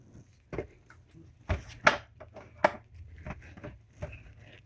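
A spoon scrapes and clunks inside a crock pot as melting Christmas candy is stirred, producing soft irregular scrapes and knocks at a quiet level with no talk.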